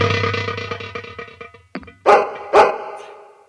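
A tied-up dog in a Hindi nautanki folk theatre performance gives two loud, close barks near the end, after a sustained tonal musical note that fades out.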